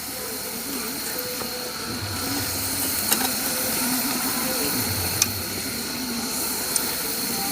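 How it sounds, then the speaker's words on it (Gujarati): Fafda fry in a pan of fully heated oil, giving a continuous steady hiss with a few sharp crackles and pops scattered through it. "તો ફુલ તેલ તો ગરમ થઈ ગયું છે અને તળાયરા છે"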